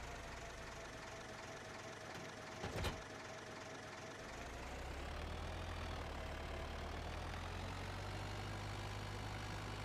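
A tractor engine in Farming Simulator 25 idles steadily, a low continuous rumble that rises slightly in level partway through, with a brief click near the start.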